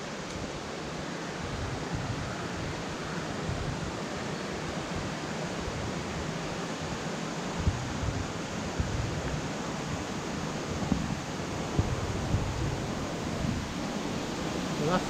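Steady broadband rush of the waterfall at Janet's Foss near Malham, a constant moderate-level roar of falling water filling the scene without breaks.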